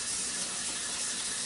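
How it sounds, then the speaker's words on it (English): Tap water runs steadily over cooked al dente spaghetti being rinsed of starch in a sink, a continuous close hiss with no talking. "I try to rinse as much of the starch off of them because it'll thicken"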